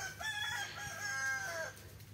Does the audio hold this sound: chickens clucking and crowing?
yes